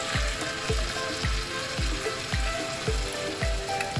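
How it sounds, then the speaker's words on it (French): White wine added to a sizzling cooking pan produces a steady, bright frying hiss with soft rhythmic stirring or scraping thumps repeating about twice a second, close and moderately loud, with no talking. "il me reste du vin blanc que j'avais ouvert pour une recette et je vais en ajouter un petit peu pendant la cuisson ici"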